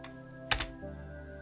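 Two quick, close clicks of computer keyboard keys being typed sound over a faint steady hum.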